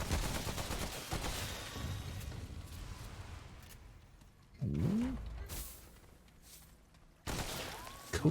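A coach gun, a double-barrel shotgun with only two shots, firing in the survival shooter Remnant From The Ashes: several sharp gunshot bursts amid game noise, with a rising-pitched effect in the middle and a final loud blast.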